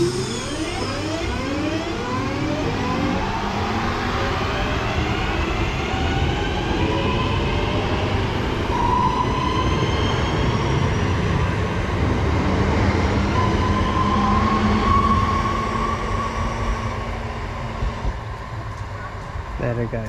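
A West Midlands Railway train on the Birmingham Cross City line pulls away, a sustained rumbling and rolling roar holding steady for about twenty seconds, with a voice speaking over it.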